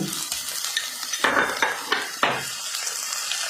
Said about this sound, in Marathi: त्यामुळं मी हे फोडणी 2 मिनिटं व्यवस्थित परतणार आहे.